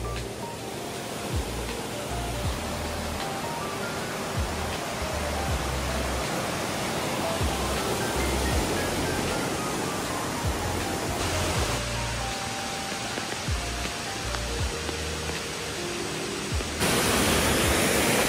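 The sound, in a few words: village waterfall rushing water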